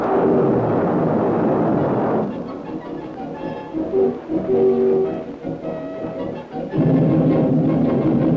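A Terrier surface-to-air missile launch at Point Mugu in the late 1940s or 1950s, one of a pair fired in tandem, heard as a sustained, heavy roaring rumble that swells and fades over several seconds.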